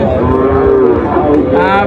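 A Friesian bull calf at the Dhaperhat cattle market in Bogura lets out a single loud, close, drawn-out moo lasting nearly two seconds.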